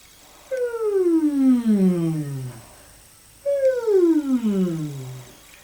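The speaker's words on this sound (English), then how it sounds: "Begin with some downward hums" Two long hummed glides sliding smoothly from high to low pitch, separated by a short pause, close and clear.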